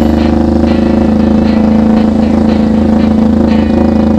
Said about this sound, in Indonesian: Suaranya juga kayak motor chopper pada umumnya